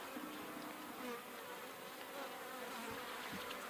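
Honey bees buzz around an open hive during an inspection, a faint continuous droning hum with slight swells, distant and low in level, no talking.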